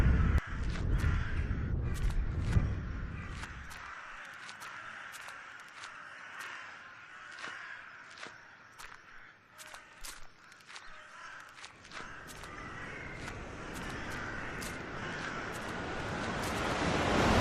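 Steady wind rushes throughout a video game scene, with scattered sharp bird calls and clicks popping over it; a low rumble fades out after the first few seconds.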